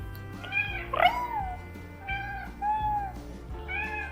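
A cat meows several times in a row, close by, with drawn-out, wavering cries and brief pauses between them.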